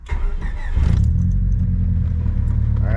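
Honda Civic EK engine cranking and starting up, then settling into a steady, loud low idle nearby, with a brief chirp of the starter at the beginning and a faint rising whine near the end.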